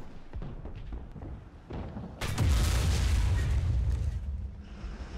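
Shells slamming into a Ferdinand tank destroyer in War Thunder, a string of booming impacts and blasts that swell into a loud, sustained rumbling roar midway.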